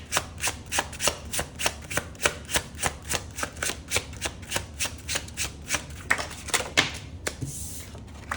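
Tarot cards are shuffled close by in a fast, steady run of crisp riffling flicks, about two to three per second for roughly seven seconds, then a softer shuffle at the end, with no voice.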